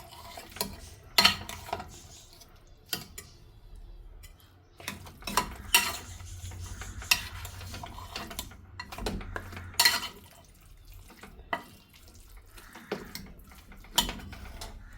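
Mutton curry is stirred in a pan with hot water added, giving irregular scrapes, clinks and wet sloshing strokes at close range, fairly quiet between the bursts.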